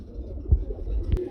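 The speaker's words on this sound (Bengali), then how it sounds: "আমরা আরেকটা মুখী কবুতরের জোড়া দেখাইতেছি বন্ধুরা, সিলভার কালার" Silver-coloured Mukhi fancy pigeons coo softly from nearby, with a couple of low throaty pulses standing out over a quiet room murmur.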